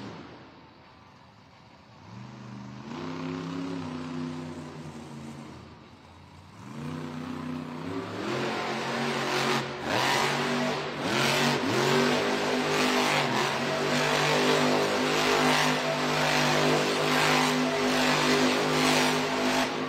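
El Toro Loco monster truck revving at a Monster Jam arena event in Charlotte, NC: a quiet start, then the big engine roars in repeated surging revs that build louder and harsher toward the end.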